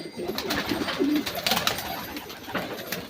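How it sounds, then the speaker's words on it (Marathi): Pigeons, including racing pigeons, coo in low, soft, repeated calls, with a steady rustling background and no voices. "एक एक कबूतर बाहेर काढले"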